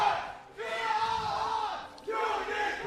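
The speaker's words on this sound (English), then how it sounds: "the Unicorns faithful always making noise in the crowd" A large arena crowd of League of Legends esports fans cheers and chants loudly at a European LCS match, a sustained roar that dips briefly twice before surging back.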